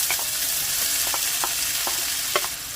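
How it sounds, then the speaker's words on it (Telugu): Cumin seeds sizzle in hot oil, a close, steady frying hiss broken by a few soft clinks and pops of stirring, with no voices. "బాగా వేడైన తర్వాత అందులోకి కొంచెం జీలకర్ర వేసుకోవాలి"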